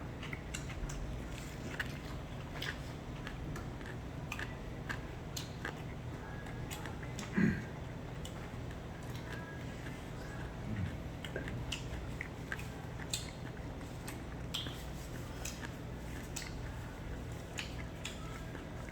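Someone eats homemade fried chicken, with soft, close chewing and biting going on throughout, quiet and steady with a few slightly louder crunches, and no speech.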